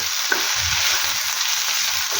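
Eggplants, onions and garlic fry steadily in a pan on a low flame for chutney, a continuous loud hiss of sizzling oil with faint stirring knocks beneath.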